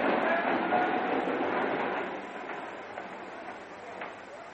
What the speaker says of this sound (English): Sheffield, how long is the train stopped for?